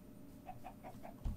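A chicken in the video game Minecraft gives a short run of soft, evenly spaced clucks, faint and alone, ending with a louder low thump.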